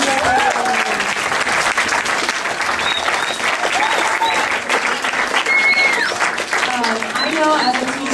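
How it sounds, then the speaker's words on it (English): Sustained applause from a school audience at Hills Academy, dense steady clapping with a few cheers and voices mixed in, loud and continuous throughout. "Can we just give Jim a round of applause?"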